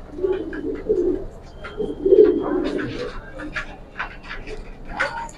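Cooing from Giribaz, Army, Pankhi and Lalpaoi pigeons for sale, a series of low soft coos with brief chirps, close by, as people talk nearby.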